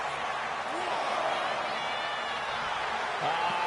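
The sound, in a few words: arena crowd in video game WWE 2K25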